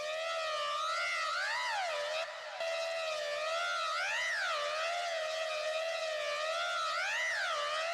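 In a metal track, a synthesizer plays a siren-like wailing tone that sweeps up and down in repeating glides. It is sustained and moderately loud, with a brief dip partway through.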